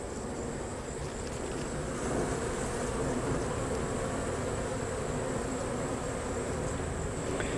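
Honeybees buzzing at an open hive, a dense, continuous drone of many wings close by, steady and unbroken, swelling slightly midway, with no talking.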